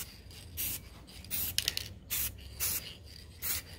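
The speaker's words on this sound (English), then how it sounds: "I'm just taking my blue paint and spraying just to give this a little" Blue spray paint hisses onto a white t-shirt laid on a table, in a series of short even bursts with brief pauses between, close and moderately loud.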